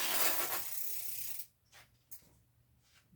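A donated bicycle's gear-shifting mechanism with a faulty derailleur that won't change gears: a rush of rubbing, whirring noise, then a few sparse mechanical clicks and ratchety ticks, close by.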